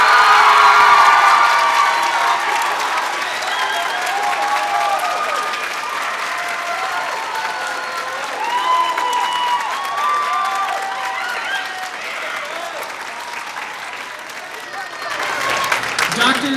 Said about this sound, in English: Big round of applause for Dr. Myron Jones.